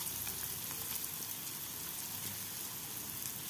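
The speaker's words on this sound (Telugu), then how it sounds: "చూడండి, బాగా ఫ్రై అయిపోయాయి పన్నీర్ పీసెస్." Paneer pieces frying in oil in a pan, giving a dense, even sizzle that stays loud and steady from start to finish with no talking.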